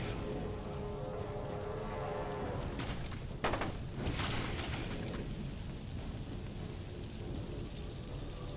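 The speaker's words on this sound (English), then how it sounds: "Napalm cannon." Napalm cannon firing in the FEAR 2 video game, a dense, roaring burst of fiery blasts with a sharp crack partway through, loud and sustained under a constant rumbling wash.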